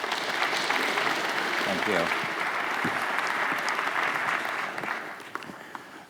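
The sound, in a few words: audience applause welcoming a speaker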